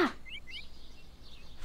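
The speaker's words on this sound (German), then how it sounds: "Vogel" A bird in Stardew Valley giving a few short, thin chirps in quick pairs, soft and slightly distant, over quiet background, with one more chirp at the end.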